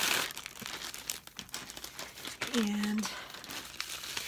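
A mailed envelope package from Twill & Print is opened, its packaging crinkling and rustling up close while a person talks.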